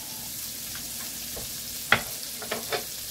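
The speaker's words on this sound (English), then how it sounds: "give this a quick stir" Sausage sizzles in salted butter with pepper in a pan, with a steady frying hiss and a few short scraping stirs clustered toward the end, close and with no voices.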